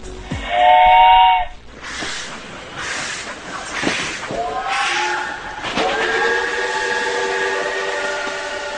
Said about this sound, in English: the Khyber Safari train runs through the rugged mountains of the Khyber Pass